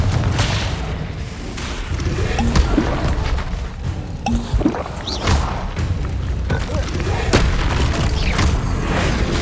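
Confringo fire spells bursting in Hogwarts Legacy combat, with booming explosions and thuds going off repeatedly over a dense layer of battle noise and sound effects.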